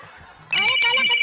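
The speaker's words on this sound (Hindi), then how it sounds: "घंटी बज रहा है" A phone's ringtone starts abruptly after a brief quiet moment, loud and electronic, ringing on steadily.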